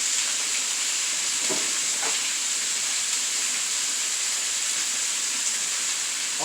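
Beef chunks sizzle in a hot oiled skillet for pepper steak, a steady, dense frying hiss throughout with a couple of faint scrapes, and no one talking.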